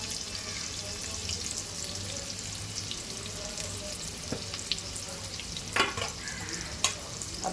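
Chopped onions fry with cumin in a pan, giving a steady close sizzle broken by a few sharp scraping stir sounds near the end, with no talking.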